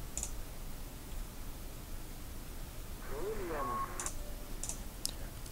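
Computer mouse clicks while navigating menus in Fallout Tactics, a few crisp separate clicks near the end over faint background noise, with a brief electronic tone in the middle.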